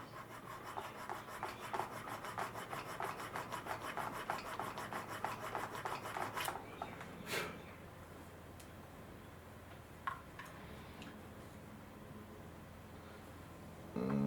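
Hand file worked over the wooden stock of a Spanish cavalry carbine, a fast rhythmic rasping of back-and-forth strokes for about six seconds, then quieter scattered scrapes and taps, close up with no talk.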